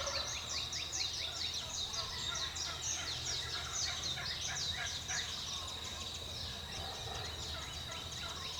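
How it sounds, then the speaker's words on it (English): Several distant wild turkeys keep up a rolling chorus of gobbles across the hunting woods, overlapping bursts that run continuously at moderate volume. "You got another group that's gobbling back to the right. Hear that?"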